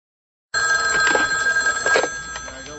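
A telephone rings after a brief moment of silence, with a bright electronic trilling tone repeating in quick bursts. It sounds close and steady, with no voices over it.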